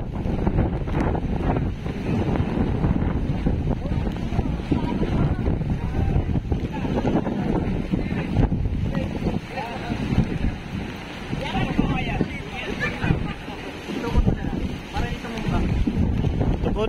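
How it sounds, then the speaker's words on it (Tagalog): Super Typhoon Pepito's violent gusts batter the microphone in Dinahican, Infanta, Quezon, a continuous roaring rumble that swells and surges without letup while a person talks beneath it. "Grabe kalakas ang hangin."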